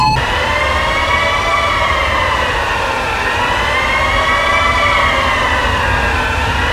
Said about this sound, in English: fire gas alarm activated